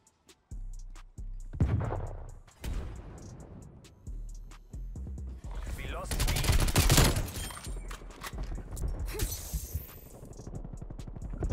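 Gunfire from a Groza rifle in Black Ops Cold War, played on PC, crackles in rapid bursts and scattered single shots, loud and close, with some distant shots and impact crashes between them.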